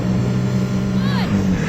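A BMW M3 Competition and a Porsche 911 Carrera S launch side by side off the line in a drag race, steady engine roar with a rising rev sweep, heard over a voice talking.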